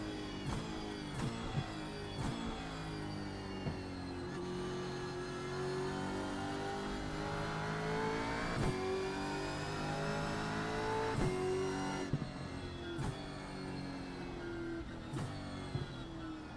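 A Camaro Gen3 supercar engine at Mount Panorama in a racing video game revs hard and steadily, climbing through gears with sharp, brief dips at each shift, loud and alone.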